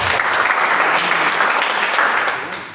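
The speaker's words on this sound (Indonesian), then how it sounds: "Kita berikan tepuk tangan" A church congregation claps together in a steady, dense burst of applause that fills the room and fades slightly at the end.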